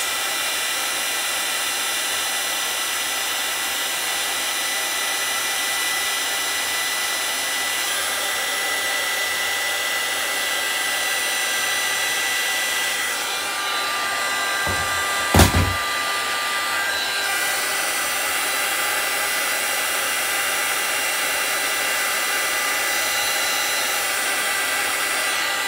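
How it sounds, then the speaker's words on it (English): A small heat gun blows with a continuous, close airy whoosh throughout, spreading resin on a ceramic dish, briefly cut by a sharp click near the middle before the steady blowing resumes. "And I'm gonna use my little heat gun."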